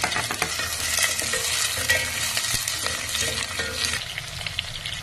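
Onions and curry leaves frying in a pan for a fish curry, a loud continuous crackling sizzle close up with frequent small clicks and stirring scrapes, no one speaking.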